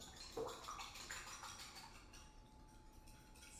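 Two eggs are beaten with a small whisk in a mixing bowl, giving quiet, rapid clinking and sloshing, close by and faint.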